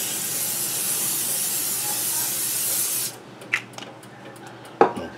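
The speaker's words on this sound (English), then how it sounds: "Now, gonna have to spray this." Cooking spray hisses from a can into a pan before beef meatballs go in, a loud, steady three-second spray that cuts off abruptly and is followed by a few faint clicks and knocks.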